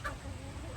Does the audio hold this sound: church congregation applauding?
no